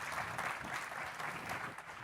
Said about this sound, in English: A big round of applause, please, for our speakers